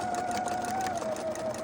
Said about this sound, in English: And this is sewing across, giving the seam allowance here